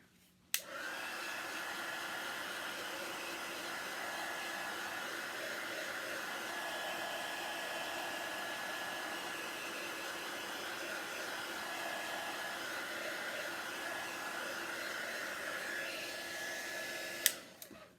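A hair dryer blows on a freshly painted craft sign, switching on with a click and running as a steady, close whooshing hum for about seventeen seconds before cutting off.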